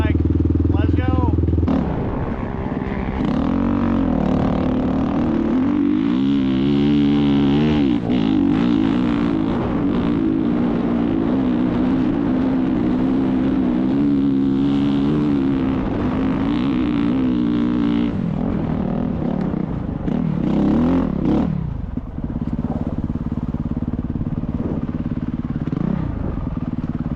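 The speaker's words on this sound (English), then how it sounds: "finally gonna rip the dirt bike" A dirt bike engine revs and roars continuously while being ridden off-road through the bush, close and loud throughout, with pitch rising and falling as the rider works the throttle.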